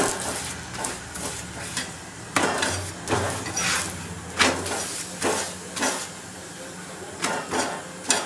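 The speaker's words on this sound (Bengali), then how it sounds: "এবার আমি অল্প অল্প করে তেল দিয়ে এটাকে" Soft paratha frying over medium gas heat in a pan with oil added a little at a time, a steady close hiss broken by repeated scraping and clattering bursts from turning or pressing the bread, with no talking.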